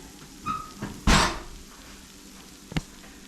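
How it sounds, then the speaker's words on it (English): An oven door on a home kitchen oven closes with a sharp thud just past one second, after a few lighter clicks, and a brief knock follows near the end, all without talk. "Let me close up the oven."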